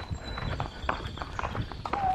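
A horse moving at a show arena gives off a steady, fairly quiet run of hoof clip-clops, rhythmic and slightly distant under a low outdoor background.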